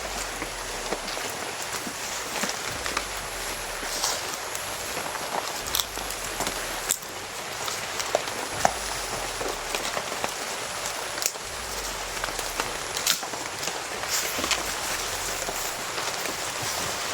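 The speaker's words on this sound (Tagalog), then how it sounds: "Lakas ng ulan mga tol." Heavy rain pours steadily for the whole stretch, a dense even hiss of drops drumming on surfaces nearby, with faint crackles and a few scuffing steps of someone walking through the downpour. No one speaks.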